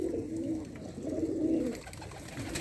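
Pigeons coo in soft, low, rolling bursts close by, two or three throaty phrases in a row with faint background noise.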